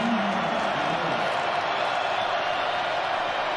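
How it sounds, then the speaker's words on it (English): Large college football stadium crowd at a TCU at Colorado game roaring and cheering in a dense, steady wash of noise. A commentator's voice is briefly heard at the start. "Oh, listen to this crowd."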